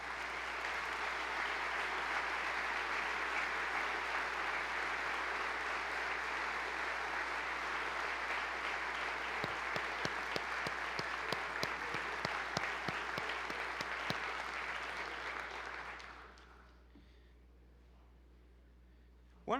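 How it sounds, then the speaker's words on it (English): Applause in a legislative chamber during a state of the state address for community guests standing in the gallery, a broad sustained clapping with some sharper claps toward the end before it fades out into quiet room tone. "If you'd please stand up, we'll give you a round of applause"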